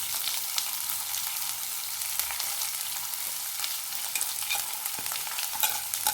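Garlic and chopped onion frying and sizzling in a pan, a steady close crackle with occasional stirring scrapes throughout and no voices.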